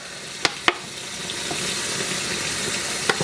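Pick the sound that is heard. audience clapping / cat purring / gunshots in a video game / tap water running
tap water running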